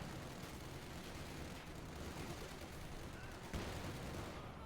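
Anti-aircraft half-track firing in Company of Heroes 2, a dense continuous roar of rapid gunfire with explosions mixed in, loud and unbroken for several seconds.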